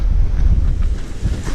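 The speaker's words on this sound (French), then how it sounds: "Vous devez en avoir plein les oreilles avec ce vent" Strong gusting wind on a seashore during shore fishing for sea bass, a loud continuous roar buffeting the microphone with heavy low rumble and no pauses.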